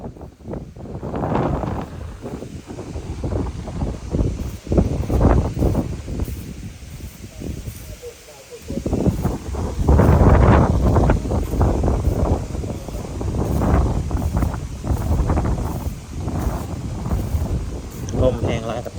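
Strong wind gusts outdoors on a farm among coconut trees, roaring and buffeting the microphone in heavy waves. Voices come and go under the noise.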